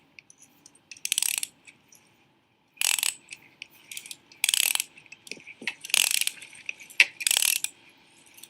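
Screws are worked loose while a centrifugal pump is taken apart, giving close, bright bursts of metallic ratcheting clicks in irregular clusters with short quiet gaps between them and no voices.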